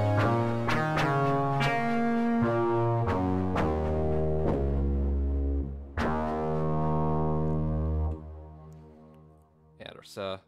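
A buzzy, harmonically rich modular synthesizer patch recreating a Buchla 700 configuration plays a sequence of plucky notes, then holds a thick droning tone with slight vibrato before cutting off.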